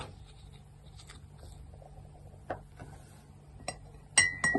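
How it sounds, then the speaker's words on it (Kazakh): A spoon stirring salt into about 100 ml of water in a glass, faint scrapes followed by a few sharp clinks of metal on glass near the end, close and quiet. "Және оны қасықпен жақсылап араластырамыз."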